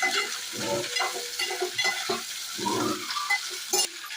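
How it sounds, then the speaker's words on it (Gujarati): Ivy gourd sizzles in hot oil while being stirred, with scraping strokes of a utensil against the pan in irregular bursts, close by. "ફેરવી નાખું મિક્સ કરી તેલમાં"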